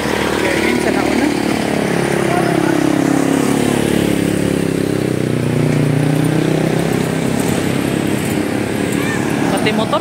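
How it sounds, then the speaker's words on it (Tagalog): Motorcycle engine droning steadily near a women's elite and U23 road cycling race at the 2024 Philippine national championships, its pitch slowly dipping and rising across the whole stretch, with faint voices underneath. "Pati motor tumumba."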